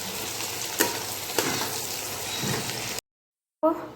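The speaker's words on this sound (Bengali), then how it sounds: "তাহলে তাড়াতাড়ি পেঁয়াজটা লাল হয়ে যাবে আর ভাজাও জলদি হয়ে যাবে" Onions frying with a little sugar crackle and sizzle steadily in a pan, with a couple of sharper stirring knocks, before cutting to a brief silence and a short burst of sound.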